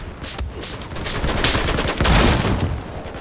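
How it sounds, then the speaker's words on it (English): Mortar rounds hit in Battlefield 4, a dense run of loud, close explosions and crackling impacts layered over rapid gunfire for a few seconds, with no talking. "Oh, the damn mortars."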